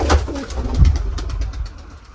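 Pigeons coo at their nest, close by and loud, with a couple of deep throaty coos early on followed by softer murmuring.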